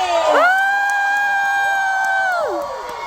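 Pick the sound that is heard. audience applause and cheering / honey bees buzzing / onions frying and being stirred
audience applause and cheering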